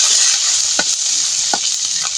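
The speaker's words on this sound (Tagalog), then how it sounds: "maglalagay na ng mantika para igisa. Yun, mainit ang mantika." Hot oil for sautéing onion hisses loudly and evenly, with two or three soft scraping stirs cutting through the bright sizzle and nobody talking.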